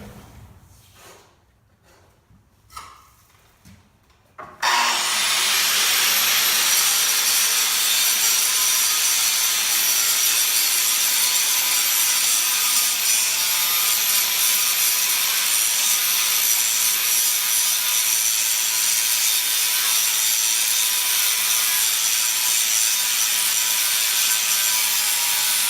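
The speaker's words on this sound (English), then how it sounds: "So we're going to go ahead and start grinding." An angle grinder smooths concrete joints on a garage wall, starting after a few quiet seconds and then running as a loud, steady, high-pitched whine with grinding scrape that holds for over twenty seconds.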